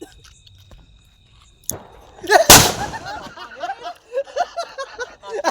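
A Diwali firecracker bomb goes off with one sharp, loud blast close by, preceded by a smaller pop and followed by people laughing and chattering.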